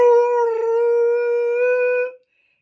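Human voice imitating the bellowing part of the Jurassic Park T-Rex roar, a single sustained, steady-pitched howling tone lasting about two seconds before cutting off to silence.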